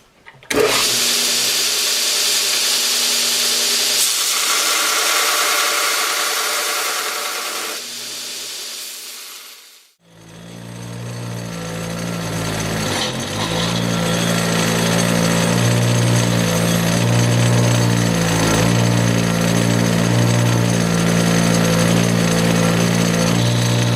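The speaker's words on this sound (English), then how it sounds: "we're going to take them and clean them up on just the sander and the wire brush" A bench sander followed by a wire brush cleaning railroad spike parts, loud steady grinding whine that cuts out briefly midway, then a rougher motor roar with scraping as metal is pressed against it.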